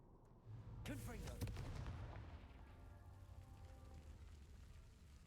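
A spell blast from the Hogwarts Legacy video game bursts out as a booming, crackling explosion, loud at first and then rolling into a lingering rumble with debris-like patter.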